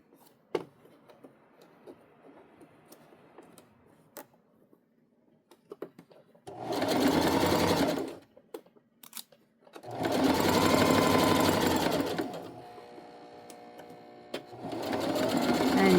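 A sewing machine back stitches a tote bag in three loud, steady runs, each lasting a few seconds, with quiet handling and fabric rustle in the gaps.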